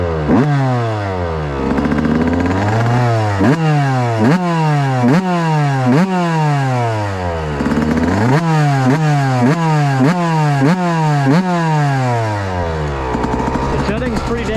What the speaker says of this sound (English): let's start her up and go for a few laps.